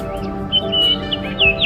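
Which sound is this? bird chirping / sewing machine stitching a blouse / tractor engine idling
bird chirping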